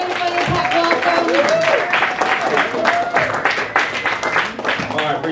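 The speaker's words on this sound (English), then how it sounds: "give him a big round of applause" A conference audience gives welcoming applause for speaker Kyle Vanduser, with dense, lively clapping and voices mixed in under a speaker talking through the noise.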